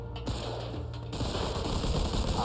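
Gunfire in the video game Mafia 2 during a shootout, with a brief quiet gap giving way to sustained, loud rapid bursts of automatic fire that keep rattling to the end.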